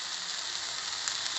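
Spices hitting a little hot oil in a pan for UP-style stuffed brinjal, a steady soft hiss and crackle of sizzling that stays even and fairly quiet throughout.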